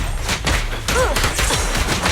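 Sustained gunfire in the action game Zenless Zone Zero, a loud continuous barrage of rapid shots with a short electronic chirp in the middle, and no talk over it.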